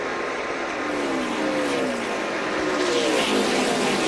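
NASCAR Nationwide stock cars race at the 2010 Federated Auto 300, engines roaring continuously as they accelerate on throttle, a dense loud drone with rising pitch sweeps.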